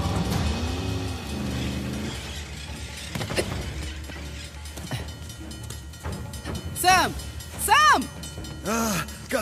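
Moving train in the video game Uncharted: The Lost Legacy, a rumbling rolling clatter with metallic squeals and scrapes that swell near the end, mixed with shouted voices and game sound effects.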